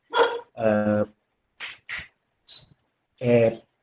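A small pet dog barks in a home, a few short yappy barks and whimpers in quick bursts, close to the mic, with no talk over them.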